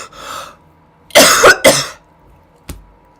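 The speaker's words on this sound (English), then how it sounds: "The live stream is going to hear me cough." A person coughs in two harsh bursts, close and loud, between quiet stretches with a soft throat noise at the end.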